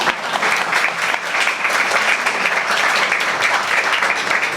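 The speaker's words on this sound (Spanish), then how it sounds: "háganle un aplauso" Steady, loud applause from a crowd, continuous clapping filling the whole stretch without a break.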